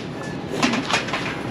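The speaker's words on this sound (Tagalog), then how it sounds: "Papakain pa tayo ng ibon." Pigeons coo softly nearby in a couple of short, throaty calls over faint background noise.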